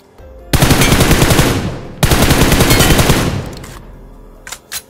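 Rapid automatic gunfire from a gun in the video game BGMI rattles in two loud sustained bursts, the second tailing off, with little else around it.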